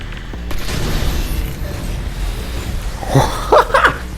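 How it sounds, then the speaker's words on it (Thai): An oil barrel explodes in the VR game Half-Life: Alyx, a low booming rumble that fades, followed by a few sharp clanks and crackles near the end. "น้ำมันระเบิด"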